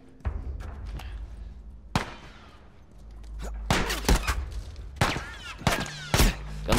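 Gunfire in The Last of Us, loud sharp shots in irregular bursts, some rapid clusters of several cracks, others single, with heavy low rumble between volleys.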